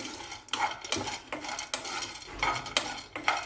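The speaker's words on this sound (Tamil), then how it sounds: "நம்ம ஆயில் எதுவும் ஊற்றாமல் நல்லா நர்ஸெல்லாம் நல்லா கிறிஸ்பியாக வறுத்தெடுத்துக்கலாம்" Nuts dry-roasting in a pan with no oil, with rhythmic scraping and clattering strokes of a spoon roughly every half second over a faint background sizzle.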